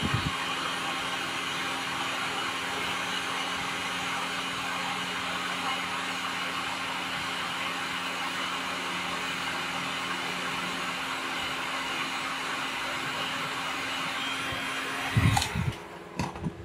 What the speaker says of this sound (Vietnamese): Thì cái máy khò này nó cũng giống như là cái máy sấy tóc